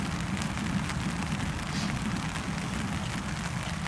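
Rain falls steadily outdoors during the blessing of a cross, a dense, even hiss of drops that holds at the same level throughout with no talking.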